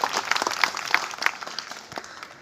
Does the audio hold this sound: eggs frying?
no